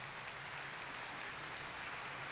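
Steady, dense clapping applause fills the scene in the video game Zelda: Wind Waker HD, continuing evenly at a constant level throughout with no pauses.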